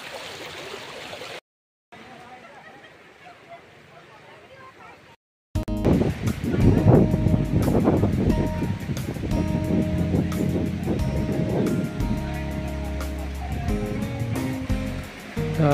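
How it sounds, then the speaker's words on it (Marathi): Waterfall runoff at Zenith Waterfall near Khopoli rushes through a stream crossing, a loud continuous wash of flowing water that swells and stays steady after a quieter opening. "ते सगळं वॉटरफॉलचंच पाणी आहे"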